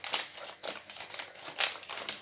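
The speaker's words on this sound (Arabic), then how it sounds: "ونقص الكيس اهو" Crisp crinkling and snipping as a plastic bag of yellow liquid dish soap is cut open with scissors, a few close bursts with no talk.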